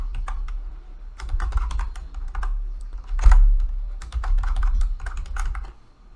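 A password is typed on a computer keyboard in quick, close clicking bursts of keystrokes, separated by short pauses, with one harder key press in the middle.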